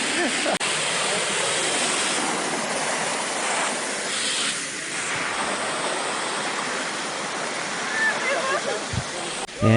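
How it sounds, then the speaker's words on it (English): The Copalitilla waterfalls in Huatulco, Mexico roar in a steady, broad rush of splashing water, close and loud throughout. "And here we are at the little waterfalls."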